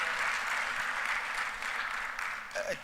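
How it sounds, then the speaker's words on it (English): Conference attendees at a renewable energy expo give a round of applause, a fairly quiet, even patter of clapping that fades as a voice begins at the end. "Kindly give another round of applause to Madame Nampera."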